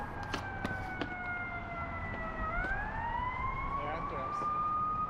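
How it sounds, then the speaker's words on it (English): Police sirens wail at a distance, their pitch sliding up and down over traffic rumble, with occasional sharp clicks nearby. "You can just constantly hear the police sirens."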